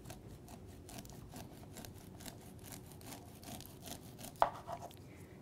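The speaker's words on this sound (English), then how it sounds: "let's go ahead and just cut all the kernels off." A knife cuts the kernels off a cooked corn cob, giving faint soft scraping and rasping strokes in a quiet kitchen, followed near the end by a brief sharper click.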